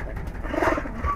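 A Giribaz pigeon gives a short, soft coo, a brief murmuring call heard close by at low volume against faint background noise.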